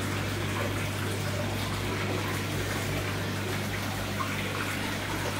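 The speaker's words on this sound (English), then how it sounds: "But water's actually going back in right now" Steady broadband rush of water flowing back into a home aquarium holding discus fish through a JBL water changer, continuous and even with a low hum underneath and no talking.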